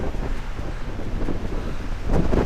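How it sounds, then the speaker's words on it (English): A strong winter wind gust roars across a microphone on Donner Summit near Tahoe, California, as a storm rolls in, a steady buffeting rush that swells louder near the end. "Here comes a big gust. Woo! Oh boy. Storm's rolling in."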